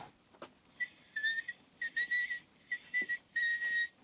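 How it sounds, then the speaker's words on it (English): A seven-year-old child whistling, replayed from a dictation recorder: several sustained, wavering whistled phrases in bursts with short gaps, clear and fairly faint, with no talk. "Listen to that kid whistle."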